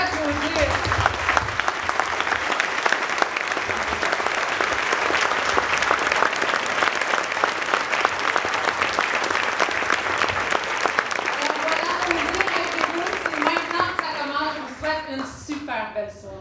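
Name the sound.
audience applause for Dr. Peter Metrakos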